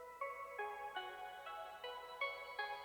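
Soft synth plucks enter quietly in an electronic track, a gentle repeating pattern of short bright tones spaced about half a second apart, faint and alone with no voices.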